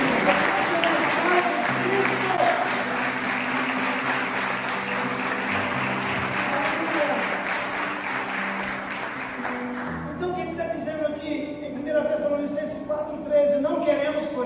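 Church congregation applauding for Jesus during a sermon, a sustained loud wash of clapping that fades and gives way to softer noise and music-like tones near the end.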